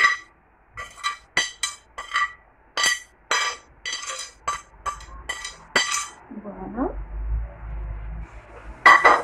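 Clattering clinks and scrapes of a utensil stirring vegetables, rice and chicken in a baking dish, in quick irregular bursts, with a brief spoken word near the start.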